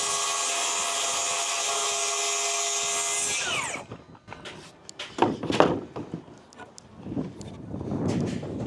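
A power saw cuts a 45-degree fascia board during work on a 100-year-old house, starting with a loud, steady whine that spins down, followed by scattered clunks and handling noises at close range.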